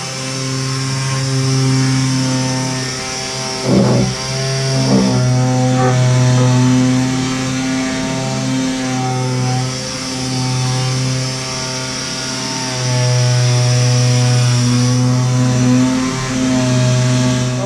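A power sander works over a reclaimed pallet wood countertop in an off-grid cabin, giving a loud, steady motor hum with a strong whine. It runs continuously, with a brief bump in the sound partway through.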